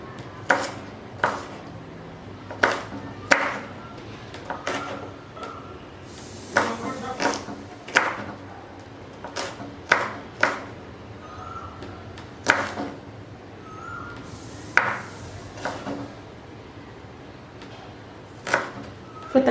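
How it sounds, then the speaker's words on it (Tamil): A knife chopping onion on a board, with sharp irregular taps spaced a second or two apart, close and fairly quiet. "வெங்காயம் வந்து நம்ம 1-2 நறுக்கிக்கலாம்."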